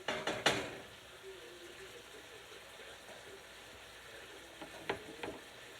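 T-bone steak frying with butter in a hot pan, a low steady sizzle beneath a few sharp metallic clanks and scrapes at the start and again near the end.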